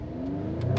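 An all-wheel-drive performance car with launch mode pulls hard from low speed, its engine note rising steadily and growing louder as it accelerates, heard close with no voices.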